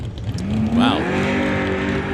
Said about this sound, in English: Tires breaking loose right at the hip and has to give it a hit. And away he goes.